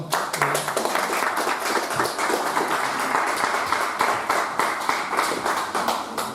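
A church congregation claps steadily and briskly, dense close applause filling the whole stretch at an even level with a faint voice briefly underneath.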